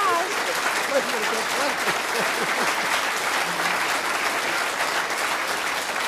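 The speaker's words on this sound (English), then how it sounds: "Why are they applauding, Don?" Studio audience at a 1982 television talk show breaking into sustained, steady applause that fills the room for the whole stretch, with a voice talking faintly underneath.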